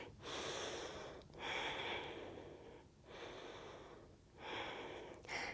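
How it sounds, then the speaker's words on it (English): A deep audible inhale during a yoga flow class, drawn-out breathing sounds repeating in several long waves, close and fairly loud with no talking over them. "Take a big breath in."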